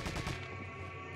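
A flash grenade goes off in Resident Evil 4 with a quick burst of sharp bangs at the start, then a fading, ringing tail.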